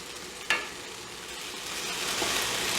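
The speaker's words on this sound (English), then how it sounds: "I'm going to let that saute for another 5 minutes or so" Onions sauté in a pan for a vegetarian shepherd's pie, giving a soft, steady sizzle throughout with one brief clink near the start and no voices.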